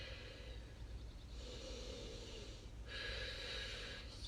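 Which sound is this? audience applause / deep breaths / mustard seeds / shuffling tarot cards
deep breaths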